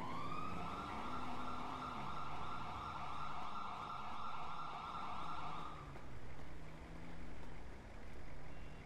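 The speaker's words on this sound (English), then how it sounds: "I seen that ambulance pull up." An ambulance siren in a police roleplay video game wails in a slow, rising and falling cycle at a moderate distance, with the tone dropping away partway through while a low vehicle rumble continues.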